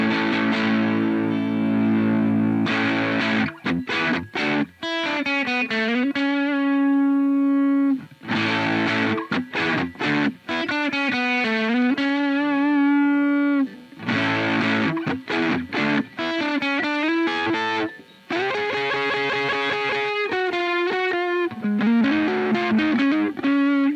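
An electric guitar played through a Ground Control Tsukuyomi midrange booster pedal, with distorted, sustained notes and bending phrases in loud bursts separated by short pauses.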